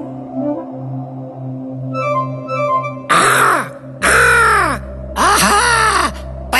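A cartoon crow caws in a children's animated telling of the thirsty crow fable, three loud harsh calls in quick succession after a stretch of soft background music and chimes.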